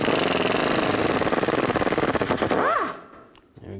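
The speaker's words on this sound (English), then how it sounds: "underneath, I'm gonna use a 14 millimeter socket." Impact wrench with a 14 mm socket spinning off a front sway bar link nut on a 2004-14 GMC Yukon, a loud continuous rattling hammer for about three seconds that then winds down and stops.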